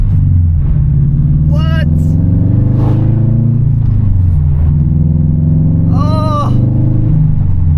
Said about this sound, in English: That's a Subaru BRZ right there.